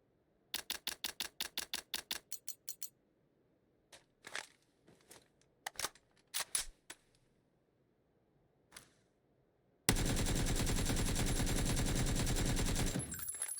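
Gunfire in the video game PUBG: a rapid burst of about a dozen sharp automatic shots, then scattered single cracks, ending in a dense sustained stream of fire, loud and close.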